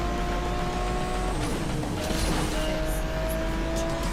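A continuous engine drone from a racing car in the video game Asphalt 8, loud and steady with shifting pitch as it revs, no voices over it.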